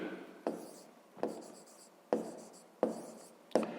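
Chalk or pen strokes of a handwritten math inequality, five distinct scratchy strokes at a steady pace, each starting with a sharp tap and trailing off, close and fairly quiet with no talk.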